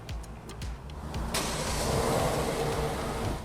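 A Kia car starts by remote start, a few faint clicks and a brief whir followed by the engine catching and settling into a steady idle rumble nearby.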